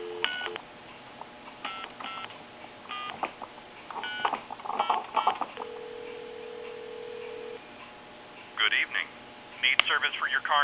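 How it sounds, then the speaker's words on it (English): A wood wall telephone on a regular line gives a short dial tone, then a number is dialed as a series of brief touch-tone beeps with pauses, a steady tone in the middle, close and moderately loud, with a voice talking throughout. "Give you some dial tone here. And I'm going to go ahead and dial a time and temp number"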